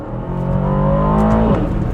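A brief engine rev from an Aston Martin DBX 707 SUV in Sport Plus mode rises in pitch then drops, deep and throaty, close by, loud and continuous.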